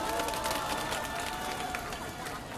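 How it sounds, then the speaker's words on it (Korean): Applause from the audience at an outdoor Wednesday protest rally in summer heat in Korea, a dense steady patter of clapping with an announcer speaking over it. "큰 박수 부탁드립니다."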